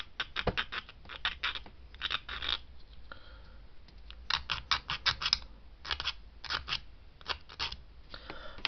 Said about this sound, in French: Ensuite je vais prendre une lime pour éliminer les bavures.